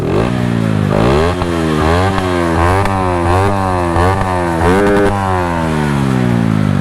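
A motorcycle engine revving hard and close, repeated rising and falling throttle blips with a rough, buzzing exhaust tone running throughout.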